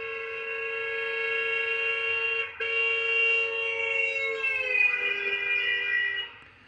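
An ambulance siren sounds loud and close as a steady wailing tone, briefly breaks, then drops in pitch as it passes and fades away.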